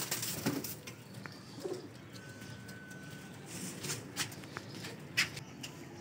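Baby pigeons coo softly in a loft in Lahore, faint and close with scattered low murmurs, light rustles and background noise.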